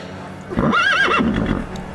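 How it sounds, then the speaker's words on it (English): A horse neigh sound effect rings out once, a loud wavering whinny rising and falling for about half a second over a low background hum. "It's a horse."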